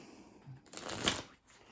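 Cards from the board game Verdant are riffled and shuffled up close in one quick, crisp burst lasting under a second, with light handling noise before and after and no speech.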